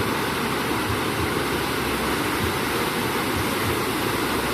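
Strong current of rushing water at a Grand Turk resort, a steady, loud broadband roar of fast-flowing water throughout with no pauses.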